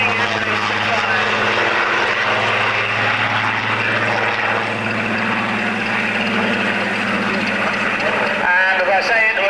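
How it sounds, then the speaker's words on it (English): A Spitfire makes a fast flyby at an air show, a continuous piston-engine drone with a low throbbing hum that holds steady and then shifts near the end. "And once again, moving in from your right, a fast flyby. Rolling into the Spitfire."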